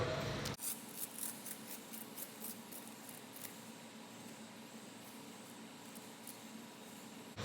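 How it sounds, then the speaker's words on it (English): A Velcro strap on a volleyball net pole pad is pulled apart with a sharp tearing rip at the start, followed by a soft, faint ripping rasp and light handling close by. "Undo the Velcro."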